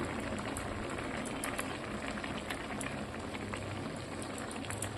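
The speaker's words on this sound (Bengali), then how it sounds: "দেখুন কিরকম ফুটছে" Soybean curry with melting butter and garam masala bubbling in a pan, a steady dense boil of popping bubbles and wet crackle, continuous and close.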